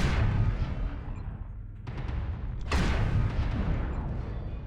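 Heavy weapons fire in MechWarrior Online, with a dense rumbling barrage that briefly drops off, then two sharp blasts crack out near the middle and carry into a sustained roar.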